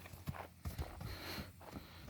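Hooves of a working mare thud and clatter on the ground as she runs off from the farm herd, a few irregular near hoofbeats over light outdoor noise.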